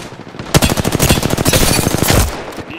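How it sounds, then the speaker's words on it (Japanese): Rapid automatic gunfire in Apex Legends, a dense burst of fast, evenly spaced shots starting abruptly after a quiet moment and running loud and close for about a second and a half before stopping. "撃たれてる。"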